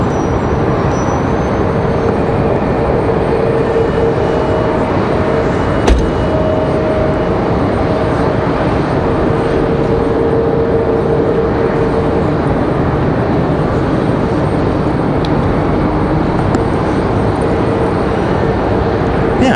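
A departing airliner at Raleigh-Durham International Airport gives a broad, steady jet roar that fills the whole stretch without letting up, heard from an outdoor plane-spotting spot.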